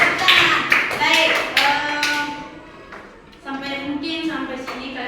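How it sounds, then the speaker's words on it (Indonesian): A classroom of children claps in short bursts during a science lesson on the respiratory system, then the clapping fades under a teacher's and pupils' voices. "Oke, tepuk tangan."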